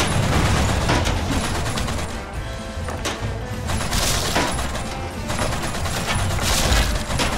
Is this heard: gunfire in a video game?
yes